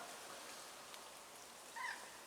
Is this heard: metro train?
no